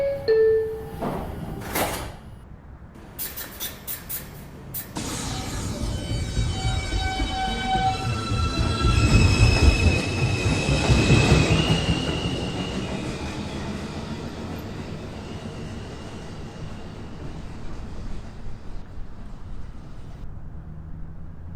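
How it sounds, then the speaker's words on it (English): A New York subway 2 train on the R142 line pulls out of the 215th Street station, with brief door and chime sounds followed by rising motor whine and rumbling wheels that swell mid-clip, then ease as the cars roll away. "This is a Manhattan-bound 2 train."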